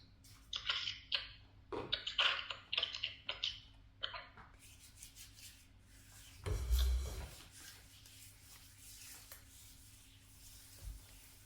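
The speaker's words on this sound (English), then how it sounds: "And then scrub for the other foot." A foot is scrubbed during a pedicure: soft, close rasping rubs in quick strokes, a few bursts then quieter brushing, with a brief low thump midway.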